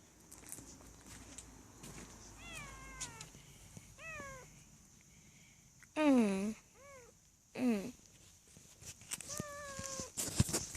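Several cats meow in short, rising-falling calls, a few louder and closer, with quiet shuffling and faint background noise between them.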